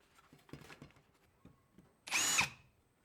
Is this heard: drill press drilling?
yes